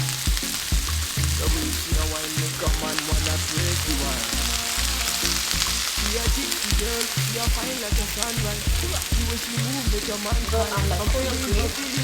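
Collard greens sizzle hard in a pan of bacon drippings, a loud and continuous frying crackle with stirring noises close by, and no talking over it.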